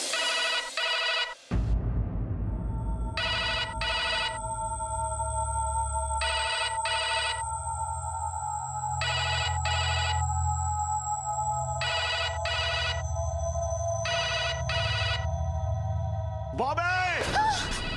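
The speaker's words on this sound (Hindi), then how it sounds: "बॉबी अरे रुको, किडनैपर का फोन है, हम जानते हैं।" A telephone rings in repeated double bursts with short pauses between them, loud and close, over a low background hum, with a voice briefly near the end.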